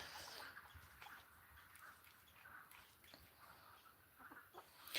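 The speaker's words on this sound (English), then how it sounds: "There's chickens all over the yard." Chickens roaming a farm yard, giving scattered soft clucks and short calls at irregular intervals, faint and somewhat distant against quiet outdoor background noise.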